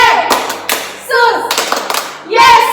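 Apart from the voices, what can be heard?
children clapping hands in Sunday school clap song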